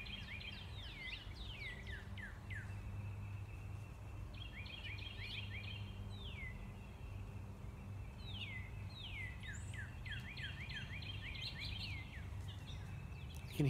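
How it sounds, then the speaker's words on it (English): A Carolina Wren sings in a backyard, repeated bursts of rolling two-note phrases coming in quick series, fairly distant and soft over a low ambient hum, with no talk. "You can hear Carolina Wren doing that cheever, cheever"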